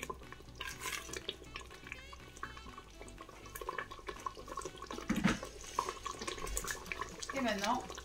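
Hot water pours from a tap into a pan of meatball sauce for spaghetti, a steady running splash with some gurgling, close and moderately loud throughout.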